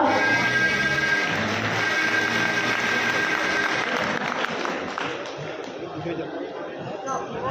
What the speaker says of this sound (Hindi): कृपया तालियों से स्वागत करें अतिथियों का।